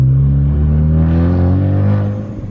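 A manual-transmission car engine revs steadily with a deep, close, loud drone as the clutch is held while shifting gears, the pitch slowly climbing before easing off at the end.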